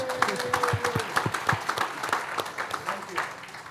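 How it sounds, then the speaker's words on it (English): Applause from a crowd at a city employee service awards ceremony, steady clapping with scattered voices and a brief tone in the first second, moderately loud throughout. "So, round of applause."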